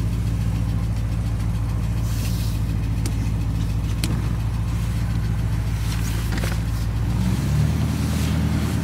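A Porsche 928 engine idles steadily, close and loud, a continuous low rumble with a slightly ticking, uneven note and a shift in tone near the end; no one speaks.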